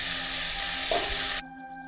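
Chopped onions frying in hot oil in a pan give a continuous loud sizzle with a brief stirring scrape, then the hiss cuts off abruptly and leaves a quieter background hum.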